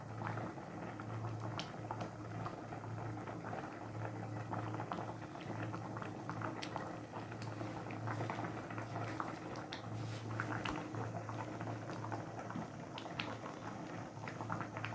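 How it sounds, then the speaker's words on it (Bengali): Rice boiling and foaming in a pot of water, a faint continuous bubbling with dense small pops and a low steady hum underneath, heard close and alone for the whole stretch. "ভাতটা কিন্তু ফুটছে এবং ফেনা উঠছে ভীষণভাবে"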